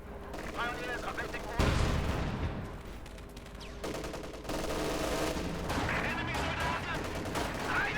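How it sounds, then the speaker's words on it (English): Machine guns and tank main guns fire against infantry in the World War II strategy game Company of Heroes 2. The battle noise is dense and continuous, with bursts of rattling gunfire and heavier booms, and a commentator talks over it. "Machine guns and main gun firing there against all the Russian infantry."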